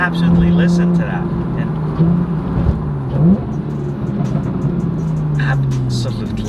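A Porsche 911 50th anniversary edition accelerates from inside the cabin, its engine note climbing steadily and loud throughout, with a voice talking over the rising drone.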